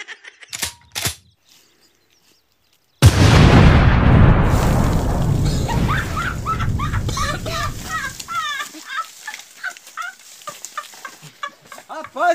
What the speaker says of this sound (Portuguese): Moço, isso é por fora, é um canhão, meu amigo. Acho que eu botei o carrego grande demais, né?